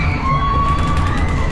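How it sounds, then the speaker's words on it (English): Riders on a funfair ski jump ride scream and shout together over dense, loud ride and crowd noise, a continuous wash of excited voices at some distance. "Somebody scream!"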